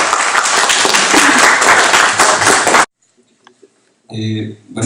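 Audience applause fills a hall ahead of a lecture on water pollution in Mexico, a loud steady wash of clapping that stops abruptly, followed by a short pause and then a voice beginning to speak.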